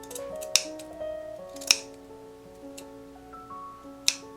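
Sewing scissors snip fabric corners with three or four crisp, sharp cuts spaced apart, heard close up over faint tonal background hum.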